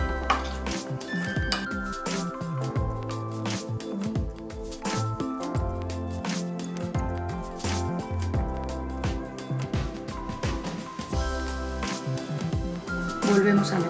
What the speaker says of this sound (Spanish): Mezclamos. Si os gusta, podéis añadirle un poquito de popurrí de pimienta.